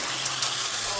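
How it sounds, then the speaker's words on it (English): Tap water runs in a steady, loud hiss from a kitchen faucet for a brief moment, close and continuous. "LA tap water."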